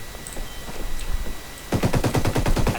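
Automatic gunfire rattles in the shooter video game Ghost Recon Wildlands, faint scattered shots at first, then a loud, rapid, close burst of repeated rounds.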